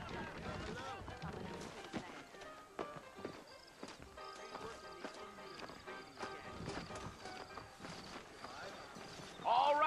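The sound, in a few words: saddled horses' hooves clip-clopping, from video game (John Marston)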